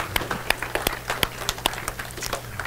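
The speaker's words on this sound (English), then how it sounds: "let's give the Lord a round of applause." A church congregation claps, with fairly sparse, irregular hand claps close by over a low hum, lasting just a few seconds.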